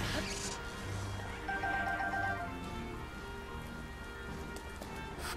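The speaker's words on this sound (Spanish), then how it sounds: "Putada que está lloviendo." Rain patters steadily in Zelda: Breath of the Wild, a constant hiss of falling drops alongside occasional game effects and footsteps, moderately loud throughout.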